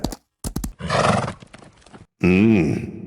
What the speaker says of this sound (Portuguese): Um cavalo no rancho?